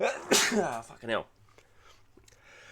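A single sharp sneeze at close range, followed by a man swearing and then a quiet room with faint rustling.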